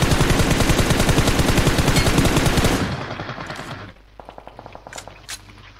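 Sustained rapid machine-gun fire rattles loud and close for about three seconds, then fades into scattered, softer bursts and isolated shots further off.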